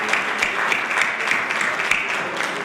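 An audience at a World Quality Day presentation applauds, giving brief, even clapping with a dense, steady texture throughout.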